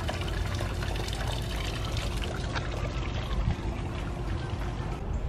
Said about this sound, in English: There's a cool waterfall.